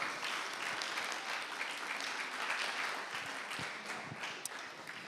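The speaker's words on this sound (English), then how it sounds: "Let's give her a round of applause." Steady, even applause from a church congregation during a Sunday service, a continuous wash of many hands clapping at moderate volume, sustained for several seconds with little talk.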